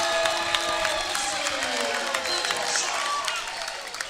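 A high school varsity basketball crowd at Oak Ridge versus Whitney roars and cheers after a three-pointer, with dense sustained shouting and scattered clapping filling the gym, and a voice speaks faintly beneath it.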